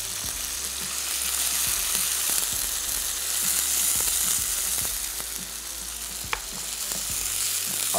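Beef sizzles and fries in hot oil with garlic and ginger, a steady loud hiss broken by repeated sharp clicks and scrapes of a utensil stirring, close and alone without talk.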